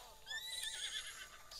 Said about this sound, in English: We got a horse.